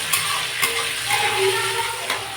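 Cumin, green chilli and tomato fry with paneer and potato in a pan, producing a steady, fairly loud sizzling hiss with light scraping and clicking from stirring, close and without talk.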